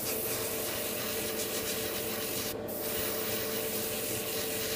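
An airbrush sprays paint onto the frame parts of a Bandai MG Freedom Gundam model kit, giving a steady, even hiss throughout with a faint hum underneath, close and continuous with no talking.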